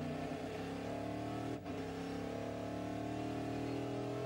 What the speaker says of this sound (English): There's nothing quite like an American V8 when you're going racing.